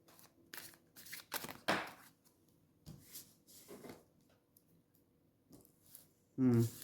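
A deck of cards riffled and shuffled several times in quick bursts, close by, with soft clicks and a louder final flutter at the end.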